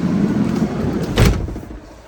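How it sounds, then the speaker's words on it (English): The door of a 2024 Winnebago Roam 59RZ pop-top camper van is pulled shut, a single short thud up close against a steady low background rumble. "Let's close the door."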